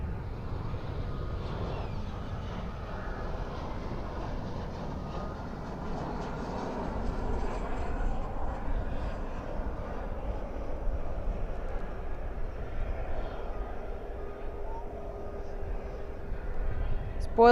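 A jet airliner arriving at Dallas/Fort Worth International Airport at night with spoilers up and thrust reversers deployed, a steady broad engine roar rising slightly toward the end, heard from a distance under talk.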